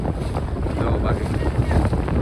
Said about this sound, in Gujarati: આ રીતની બોટ છે ભાઈ, ડીઝલ ખોટો